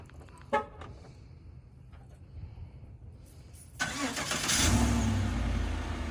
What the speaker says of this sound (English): One of my most recent mods was the remote start with the factory button.